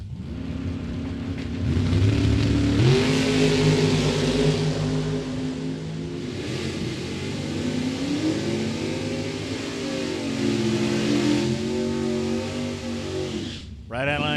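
A Camaro in the performance lane makes a drag strip run at Mid Michigan Motorplex: the engine rises in a loud revving surge, holds a strong roar while pulling away, then cuts off abruptly near the end.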